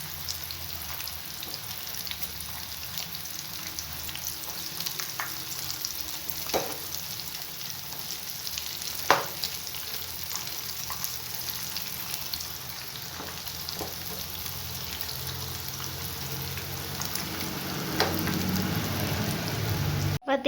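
Gram flour bondas fry in oil over a low flame with a steady, gentle bubbling sizzle like light rain, dotted with occasional pops and clicks, growing a little louder toward the end.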